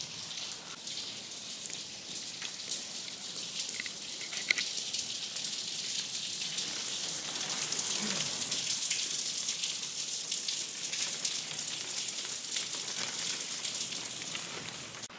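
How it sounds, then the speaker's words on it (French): Heavy rain pours onto the roof of a banana house in Tenerife during a storm. It makes a dense, continuous hiss of drops drumming close overhead for the whole stretch, with no talking. "Faites arrêter la pluie"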